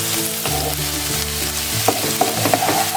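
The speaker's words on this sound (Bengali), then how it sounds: "সব ভেজিটেবলস ফ্রাই হয়ে গেছে।" Mixed vegetables, including cauliflower and onion, sizzle in hot oil in a pan for vegetable noodles while being stirred. Scraping strokes and a few sharp clinks sit over the continuous frying hiss.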